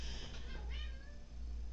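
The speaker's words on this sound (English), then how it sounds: "my cat is meowing at me to open the door" A house cat meows at a door, giving one drawn-out, rising-and-falling meow over a low steady hum, fairly close and with no talk.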